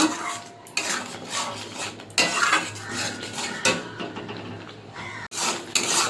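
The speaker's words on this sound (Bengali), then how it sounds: "ভালো করে কষিয়ে নেব।" Spinach being sautéed in a pan for palak paneer, a spatula scraping and knocking against the metal in a busy, continuous clatter with several louder bursts; no voices.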